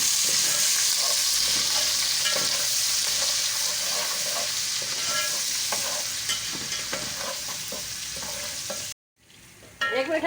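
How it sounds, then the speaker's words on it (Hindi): Garlic ginger paste fries in hot oil with a bay leaf, cumin and cinnamon for a Mughlai mutton korma, giving a loud, steady sizzle with stirring scrapes throughout, before a brief drop to near silence and a quieter return. "एक मिनट हमने लहसुन अदरक को फ्राई कर लिया है।"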